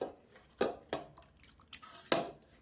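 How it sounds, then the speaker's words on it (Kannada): Greens cooked for saaru being mashed in a pot in a home kitchen: a few soft, wet thuds and metallic clinks spaced irregularly, close and moderately quiet. "ಸೊಪ್ಪೆಲ್ಲ ಸ್ಮ್ಯಾಶ್ ಮಾಡ್ತಾ ಇದ್ದೀನಿ"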